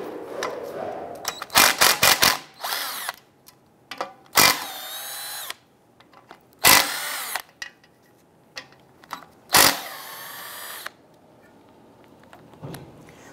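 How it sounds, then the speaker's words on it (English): A ratcheting tool with a half-inch socket works the four bolts holding the cooling fan to the fan clutch on a 2002–2008 Dodge Ram 1500, in short loud whirring bursts separated by quiet pauses. "Using our half inch socket, we're gonna get and remove these four bolts holding the fan to the fan clutch assembly"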